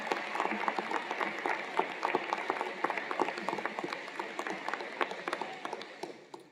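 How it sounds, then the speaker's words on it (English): Dense applause from a large crowd at a university commencement ceremony, many hands clapping at once, steady and lively before slowly thinning out toward the end. "Let's give them a round of applause"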